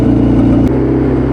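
A Willys CJ-2A Jeep engine idling as it warms up while running badly rich, a loud, close, steady low throb with an even pulsing beat and a slight shift in tone partway through.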